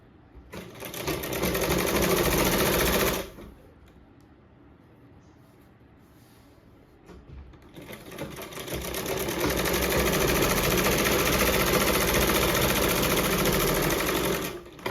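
A sewing machine runs hard in two loud bursts, stitching fabric with a steady fast whirring rattle, pausing for a few seconds of quiet in between before starting up again.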